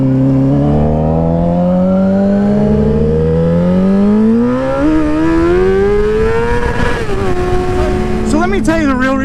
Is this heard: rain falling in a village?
no